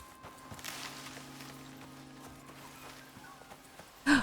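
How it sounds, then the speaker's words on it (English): Horse hooves clop softly at a distance in the survival game Icarus, a faint irregular patter over a low ambient hum, ending in a sudden loud thump. "I hear a horse over here."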